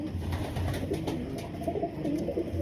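A racing pigeon of a prized bloodline coos in low, repeated throaty bursts, fairly close, over a steady background hiss with no talking.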